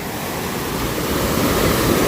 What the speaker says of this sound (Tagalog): Ang bilis ng laki ng alon.